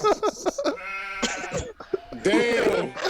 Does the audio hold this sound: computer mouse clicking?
no